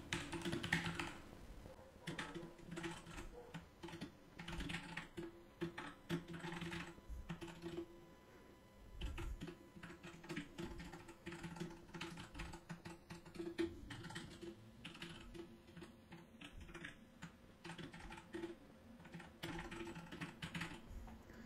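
Python code being typed on a computer keyboard, a quiet, close stream of irregular key taps with short pauses between bursts.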